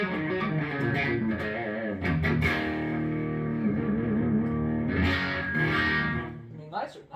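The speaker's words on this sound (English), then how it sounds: "So distortion with a room reverb." An electric guitar runs through an ART SGX Nitro multi-effects unit on a distortion preset with room reverb, playing gritty chords and notes with a reverberant tail, fairly loud and steady.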